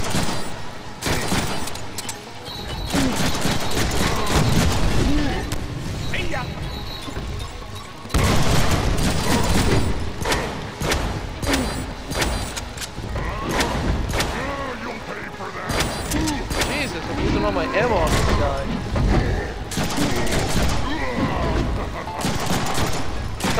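Sustained bursts of gunfire from the Deadpool video game rattle almost continuously for over twenty seconds, dense and loud with brief gaps, while someone talks over the shooting.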